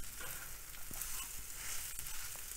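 Mashed potato being stirred into a capsicum stuffing mixture in a pan, giving a steady low sizzle with faint scraping as it is mixed, continuous and moderately quiet with no talking.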